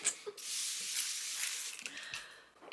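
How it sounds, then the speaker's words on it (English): Spray bottle misted several times in quick succession, giving close, soft hissing bursts with brief pauses between them and no talking. "I'm gonna spray."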